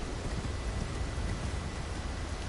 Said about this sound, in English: Getting kind of stormy in this region.